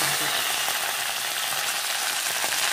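Chopped vegetable mix, including okra, frying in coconut oil with mustard seeds, a steady loud hiss and sizzle heard close up, continuous with faint stirring scrapes underneath.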